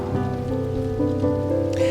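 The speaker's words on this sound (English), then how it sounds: "Rain Sounds." A steady rain patter is layered into a pop song, blending with sustained synth chords and running evenly throughout.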